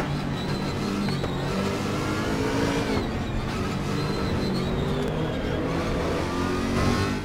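Race car engine in the Raceroom racing video game, a loud continuous drone that rises and falls in pitch as the throttle changes, steady throughout with no talk.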